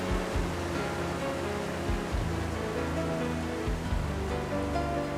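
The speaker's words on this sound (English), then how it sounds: "The trail through the flume is never far from the sound of the rushing water." Rushing water pours through the Flume, a narrow granite gorge at Franconia Notch, as a steady broadband roar, loud and continuous, with a few low thumps underneath and no voices.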